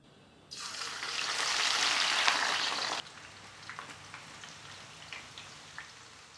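Sliced onions dropped a handful at a time into hot oil on high flame for birista burst into a loud, steady sizzle that swells and then drops off sharply, leaving quieter scattered crackles and pops.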